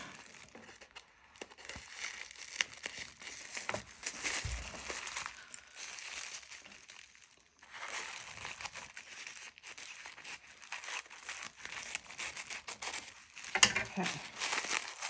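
Wrapping paper crinkling and tearing as a bead dangle gift is unwrapped, with close, continuous rustling in several bursts and a brief pause midway.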